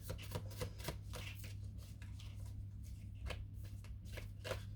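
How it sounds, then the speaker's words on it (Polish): Soft riffling and flapping of tarot cards being shuffled repeatedly in quick bursts, close and quiet, over a low steady hum. "Tasuję dla Was karty"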